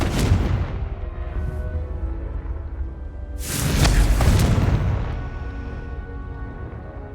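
A Confringo fire spell in Hogwarts Legacy erupts with a deep, booming blast midway, rising out of a rumbling game soundscape and fading into a lingering low roar.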